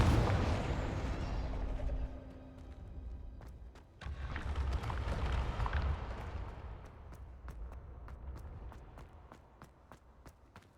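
A Confringo blasting spell explodes in Hogwarts Legacy, giving loud, rumbling broadband blasts that swell and fade over several seconds, followed by sharp scattered cracks and pops that thin out toward the end.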